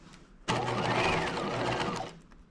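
A sewing machine basting a collar through several fabric layers onto a top, running steadily and close for about one and a half seconds before slowing and stopping.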